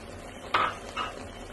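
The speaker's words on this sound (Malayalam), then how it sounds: "ഇനി ഇതൊക്കെ പാടെ നമുക്കൊന്ന് ഇളക്കി കൊടുക്കാം" Mutton curry being stirred after ground cashew and almond paste goes in, giving a brief spoon scrape against the pot and a second softer scrape a moment later, close and fairly quiet.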